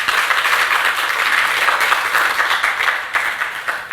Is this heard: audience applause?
yes